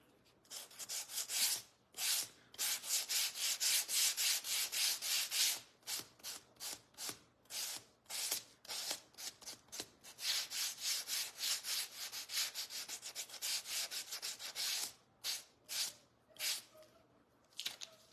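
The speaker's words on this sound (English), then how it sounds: "Let's use a new sander." Electric sander working across a wooden framed sign made from spindles, a loud rasping hum in repeated bursts with brief pauses between passes, close up and with no talking.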